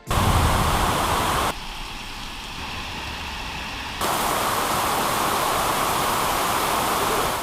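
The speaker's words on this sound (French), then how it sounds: "Parfois, il pleut tellement fort et tellement vite que le fleuve déborde et inonde complètement le village." Heavy tropical rain pours down on an isolated Amazon jungle village, a dense, loud hiss that drops to a softer wash midway before surging back to full strength.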